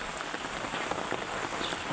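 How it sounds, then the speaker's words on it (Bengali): Heavy monsoon rain pouring in Chittagong, a dense, steady patter of drops on surfaces, close and continuous with no voices. "প্রচুর বৃষ্টি হচ্ছে ভাই"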